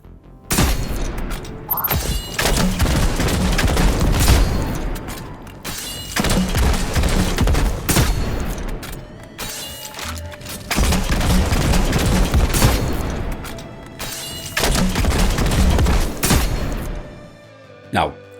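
Outrageous Fortune grenade launcher in Destiny 2 firing spike grenades with the backup mag mod, heard as five loud bursts of repeated booming shots separated by short pauses, with no talking over them.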